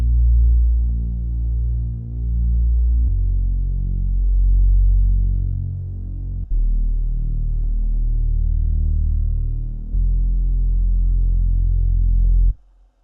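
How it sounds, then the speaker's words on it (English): Deep, wide saw-wavetable synth bass with light reverb, chorus and a hyperdimension widening effect, built for a trap beat, playing sustained low notes that change pitch in long held sections and stay loud and steady throughout. "we're going to be adding a pretty deep and wide base to create some nice contrast between the higher seams"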